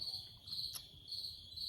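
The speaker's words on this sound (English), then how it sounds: "As you can probably hear, my pet crickets are awake." Pet crickets chirping inside a workshop, a quiet, steady high-pitched trilling in repeated pulses, close by and alone without talk.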